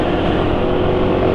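A car engine idles steadily at low RPM on cheap Valvoline XLD oil, a loud, continuous, rough mechanical drone heard up close with an audible hum and no let-up.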